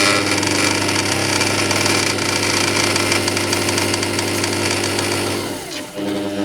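A refurbished wood turning lathe driven by a variable-speed drill motor runs with a steady, loud mechanical hum and whine, winding down near the end.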